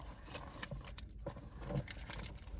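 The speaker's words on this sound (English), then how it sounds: "I have my keys" Keys jangling in a hand before a new car purchase, a faint, close metallic rattle and clinking that comes in uneven shakes against a soft background hum, with no talking.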